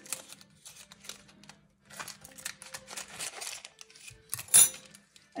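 Scissors cut open a plastic food package in a home kitchen, producing scattered close clicks, snips and crinkles in irregular bursts, with a sharper clack near the end and no talk.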